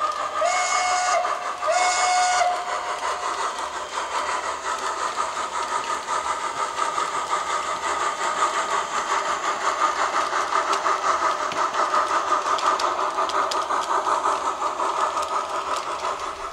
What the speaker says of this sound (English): give a listen to our new Steam Decoder, which features many new Chaffinity sound sets, whistles, bells,